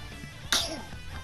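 A single short, sharp sneeze from a person indoors, loud and close, over faint background room noise.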